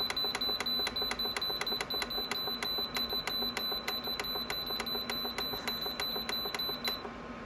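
A DeLonghi HFX60O15L ceramic heater beeps rapidly as its timer is set, a steady train of short sharp electronic beeps roughly every third of a second over a low fan hum.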